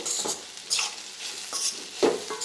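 Coriander kudumulu mixture with sesame powder being stirred by hand or spoon in a bowl, close scraping and soft sticky swishes in uneven strokes with a few clinks, no talking.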